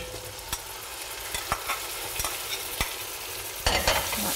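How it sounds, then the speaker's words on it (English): Frozen mixed vegetables sizzle steadily in a hot pan while being stirred. Sharp scraping knocks of the utensil come at irregular intervals, close up and with no talk. "give it a good stir, add in some mixed vegetables"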